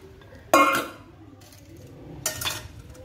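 A set of Japanese stainless steel pots with tight-fitting lids handled up close: two sharp metallic clinks about two seconds apart, the first louder, with quiet room tone between.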